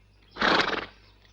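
A horse, excited by a mare in the 1985 Hindi film Mard, lets out a single loud, close whinny lasting about half a second, with quiet background before and after.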